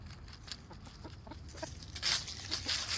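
Chickens clucking softly while scratching and digging in the ground, several short close clucks in an irregular rhythm over quiet background rustle.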